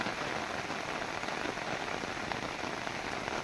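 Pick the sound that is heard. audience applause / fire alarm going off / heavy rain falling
heavy rain falling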